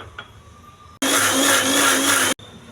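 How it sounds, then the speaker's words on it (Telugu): A mixer grinder blending tomato and tamarind whirs loudly for about a second and a half, starting abruptly and cutting off sharply, with quiet room noise before and after. "టమాటా, చింతపండు ఇది మిక్సీ వేసుకోవాలి."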